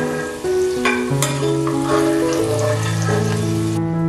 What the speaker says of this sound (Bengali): এবার ওই তেলের মধ্যে আমি 1 চিমটে গোটা জিরে ফোড়ন দিচ্ছি।